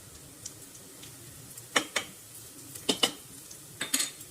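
A spoon scrapes and knocks against a pan while stirring fried onions with turmeric: a few sharp clicks and scrapes in clusters over a faint background sizzle.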